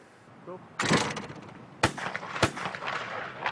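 Shotgun blasts at clay targets during wartime bomber-gunner practice: several sharp, loud reports spaced about a second apart, with a faint rumble between them.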